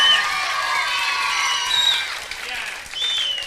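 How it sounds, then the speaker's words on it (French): Loud, sustained applause and cheering from an audience in a comedy and song show, with whoops and shouts layered over steady clapping throughout. "nous vous demandons de l'applaudir très fort"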